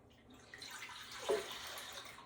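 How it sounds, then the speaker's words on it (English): Two quarts of juice pour into a pot, a soft, faint liquid gush that swells briefly midway and then settles. It is close but quiet, with no talk. "in here, we're going to go ahead and add our 2 quarts of juice"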